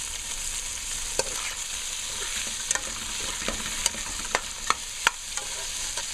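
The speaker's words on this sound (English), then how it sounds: "Let it fry." Beef stew frying in a pot, a steady broadband sizzle with a few sharp clicks of a utensil tapping the pot, close and moderately quiet, with no voices.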